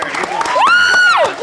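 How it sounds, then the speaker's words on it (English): Loud poker crowd at the Rio during the 2005 World Series of Poker, cheering and clapping with a shrill whistle or whoop rising over the noise, close and lively. "Bill might not have the biggest cheering section at the Rio, but they're pretty loud"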